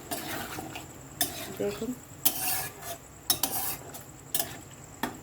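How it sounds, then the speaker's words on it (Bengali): Water goes into a pot of cooking potatoes and is stirred, with scraping and clinking strokes of a utensil against the metal pot in irregular bursts, while a voice speaks briefly. "আমি এবার এতে পরিমাণ মতো জলটা দিয়ে দেব।"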